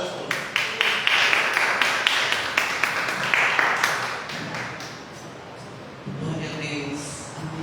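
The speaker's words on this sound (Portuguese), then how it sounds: "Querido, aplauda o Senhor recebendo a nossa apóstola." Church congregation applauding in a burst of crisp, rhythmic claps that fades after a few seconds into room murmur and background sound, with some voices underneath.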